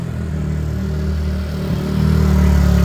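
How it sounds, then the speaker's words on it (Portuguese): A motorcycle with an original 149cc engine, still cold, runs close by with a steady low throbbing drone that grows louder toward the end. "Olha o funcionamento do motorzão. Motor original"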